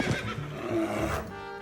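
A horse neighs in a short, loud whinny with a shaky, wavering pitch that fades out over under two seconds, heard alone with no talk.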